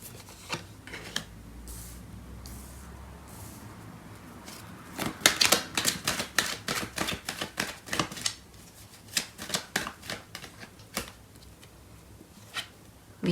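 Tarot cards being shuffled and drawn, a rapid run of crisp riffling flicks and snaps building up midway, then scattered single card slaps and taps, close and fairly quiet with no talking.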